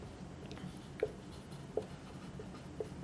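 Pen or chalk strokes from a lecturer writing a definition on a board during a valuation lecture, a few short separated scratches over quiet room tone, no speech.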